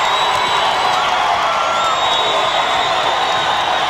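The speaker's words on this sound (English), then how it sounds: "The crowd is up and running." A loud, dense basketball arena crowd at a 2001 Big Sky women's championship game, Idaho State versus Montana, cheers and roars in a steady wall of noise with no pauses.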